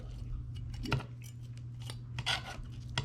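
A knife cuts through the belly of a bluegill during cleaning, giving a few short scraping, snipping crunches over a steady low hum.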